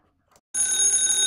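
After a brief quiet moment, an electric bell wired to an E. Howard No. 70 program clock starts ringing loudly and continuously, a bright metallic clangor with no voices.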